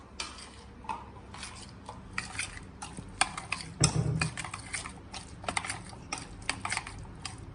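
Powdered sugar and salt being mixed in a bowl, with quick, uneven scraping and light clinking strokes of a spoon against the bowl in a steady run, close and fairly faint, with no talking.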